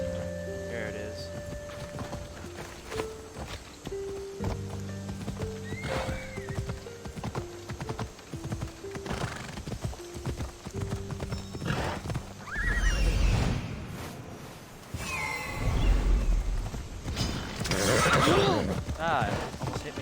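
A horse whinnies and hooves clop rhythmically in the video game Assassin's Creed Odyssey, mixed with game music and occasional bursts of noise; a person talks at times.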